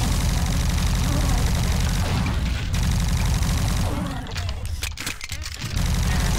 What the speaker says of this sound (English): now I get the plasma gun